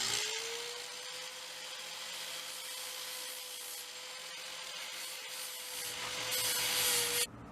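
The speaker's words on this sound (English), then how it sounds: "I'm going to take my grinder. I figured out which side I'm going to do it, and I'm going to grind the back of this off." An angle grinder grinding the back of a steel part for a 4x8 utility trailer build, a steady high-pitched whine with harsh abrasive rasping, continuous and close for several seconds.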